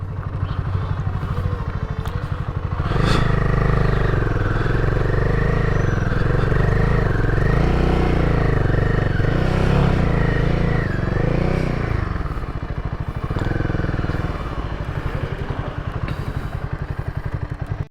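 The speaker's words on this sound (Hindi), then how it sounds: "मैं बाइक को ऊपर चढ़ाने में थोड़ी दिक्कत होगी मेरे को" Motorcycle engine labouring uphill on a rough mountain road near the Chandra and Bhaga rivers, loud and close with steady low rumble, rising revs and clatter throughout, briefly easing near the end.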